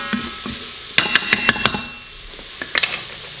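Onions sizzle in hot oil in a pan while a spoon clicks and scrapes against it a few times, close and moderately loud.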